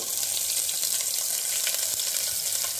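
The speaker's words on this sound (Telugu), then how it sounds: "రెండు స్పూన్లు ఆయిల్ వేస్తాను చూడండి నాలుగు గింజలు మెంతులు దాంట్లోనే ఇవన్నీ వేసుకోవాలి ఎండుమిరపకాయలు ఆనియన్స్ తెల్లగడ్డలు" Fenugreek seeds, dried red chilies, onions and garlic frying in two spoons of oil in a pan, giving a steady close sizzle and crackle that runs without pause, with no talk over it.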